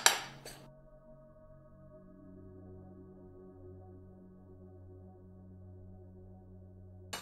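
A metal tablespoon clinks against containers while flour mixture for tortillas is portioned out: two quick bright clinks at the start and one near the end, with a steady low hum in between and no talking.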